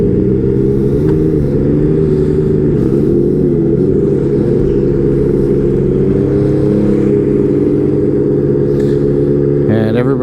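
Snowmobiles pulling away from a clubhouse in Gaspésie, Quebec, engines rumbling loud and close with rising and falling revs, one machine accelerating sharply at the end.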